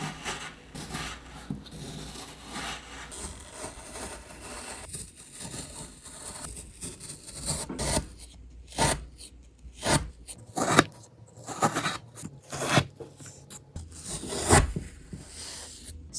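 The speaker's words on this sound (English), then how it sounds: "The satisfying part of it, you cut through the sand." A knife cuts and scrapes through a kinetic sand cake, giving soft crumbly rubbing and scraping sounds with several sharper gritty strokes, close and fairly quiet, with no talking.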